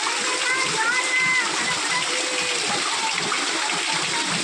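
Floodwater sloshing and splashing inside a flooded home during heavy rain, a steady watery wash with people talking over it.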